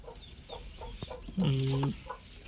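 A chicken gives a short burst of loud clucks close by, over a quiet, rustling background with faint scattered sounds.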